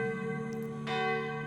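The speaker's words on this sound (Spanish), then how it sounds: "si alguna vez oyes el tañido de unas campanas de un convento" Convent bells toll with a steady, ringing hum of sustained overtones, then a fresh strike lands partway through and swells the ringing, heard alone with no voices.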